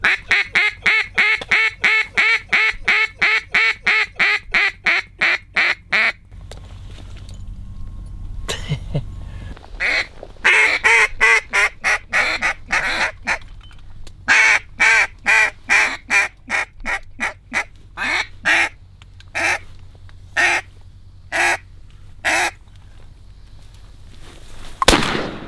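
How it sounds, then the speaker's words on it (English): A flock of about twenty ducks quacks and honks behind hunters, rapid repeated calls in steady bursts, loud and close, with short pauses and a brief low rumble partway through. "There's a big group behind us up here, about 20 birds."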